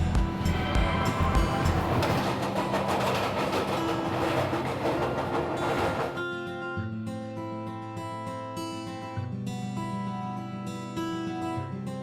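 The Saurashtra Janta Express rolls through Veraval railway station in Gujarat with a dense rumbling roar, and after about six seconds it gives way to steady tonal hum and music-like layered tones.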